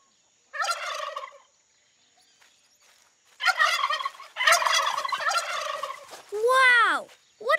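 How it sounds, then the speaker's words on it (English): A cartoon turkey gobbling sound effect, a short burst followed by a longer rapid warbling gobble and a final sweeping call, loud and close with no talk. "Aye, tis a turkey, Sammy"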